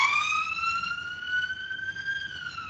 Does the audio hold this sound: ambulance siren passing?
yes